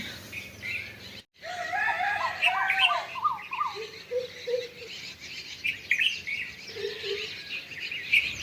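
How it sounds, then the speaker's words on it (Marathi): Several birds chirp and call back and forth at dawn in quick, bright bursts, with a lower warbling song weaving in and out against a quiet background. "पक्ष्यांचा चिळचिळ तांबडं फुटल्यानंतर तर झाला"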